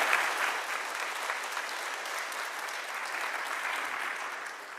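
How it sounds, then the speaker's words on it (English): An audience at a vitamins and minerals annual conference claps in sustained, even applause that fills the room and tapers off slightly at the end. "Let's give Steve another round of applause"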